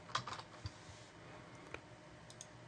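A few quiet clicks on a computer keyboard, a short cluster of keystrokes at the start, then sparse single taps, faint and close, with no talking.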